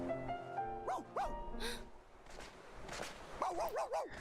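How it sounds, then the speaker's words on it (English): Dog barking in Kingdom Hearts 2, a few short high yips and barks in small clusters over game music and background noise, moderately loud and close. "listen to the dog instead"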